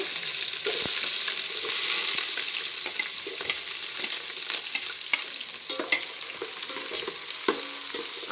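Onions frying in a pan with cashews, a steady hissing sizzle with occasional stirring clinks and scrapes of a spoon, no talk.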